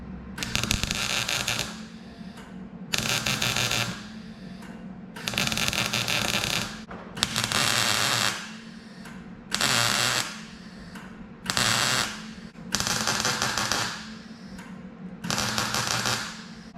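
Welding a steel floor patch into the cab of a 1973-79 Ford truck produces eight close, loud crackling bursts. Each burst lasts one to two seconds, separated by short quiet pauses.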